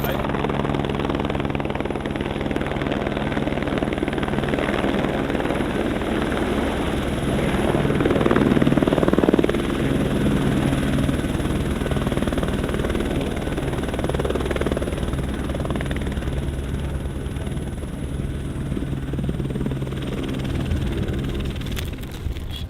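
A Chinook heavy-lift helicopter flies overhead during a vehicle recovery, a loud continuous rotor drone and engine whine that swells slightly midway, with some talk mixed in.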